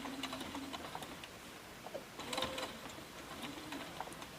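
A Baby Lock Jubilant sewing machine stitching forward and back through thick fabric layers, a steady mechanical whir with small clicks and taps, fairly quiet and close, with no one talking.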